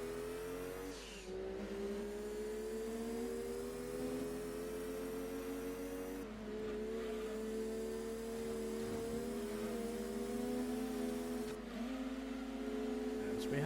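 Race car engines in Gran Turismo 2 during a Super Touring Trophy race with sedans such as a Nissan Primera, droning steadily and loud, with pitch rising and dropping as the cars shift gears, sometimes with a brief tire squeal.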